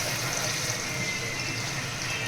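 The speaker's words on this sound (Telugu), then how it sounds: "నెక్స్ట్ ముక్క మునిగే వరకు వాటర్ వేసుకోవాలి." Water runs steadily from a tap or vessel into a pot of crab curry in a home kitchen. The stream is continuous, close and moderately loud, with no voices.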